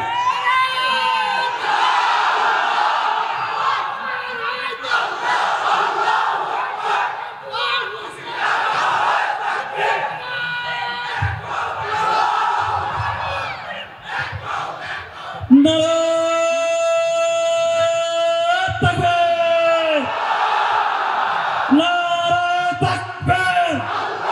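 A crowd at a Bengali religious gathering shouts the takbir chant of Allahu Akbar, loud massed voices surging together, then giving way to a sustained, tonal call-and-response from the crowd.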